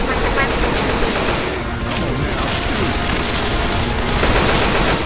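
Rapid bursts of gunfire fill a video game battle, dense and continuous throughout with booming impacts, while people talk excitedly over it.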